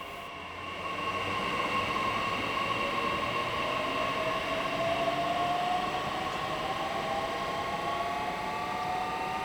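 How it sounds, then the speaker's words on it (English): A train heading for Leinefelde in Germany rumbles steadily past on the rails, with a continuous droning hum and rising whine that persist throughout. "the train is seen heading for Leinefelde"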